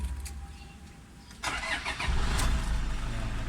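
A Toyota Fortuner, just back from a gauge-panel repair, cranks briefly and catches, and its engine then settles into a steady idle. The sound is close and clear, and no one speaks.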